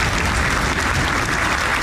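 A crowd applauds in a dense, steady burst of clapping, loud and close, lasting the whole short moment.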